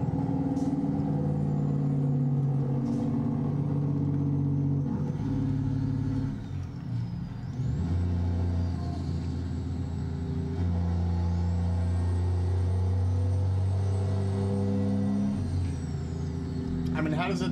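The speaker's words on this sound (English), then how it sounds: "Especially the Jake brake on this one is just so much better." Kenworth W900 with a Detroit Diesel DD60 engine in American Truck Simulator drones low and steady, shifting pitch as the Jake brake barks in sustained bursts, with someone talking over it throughout.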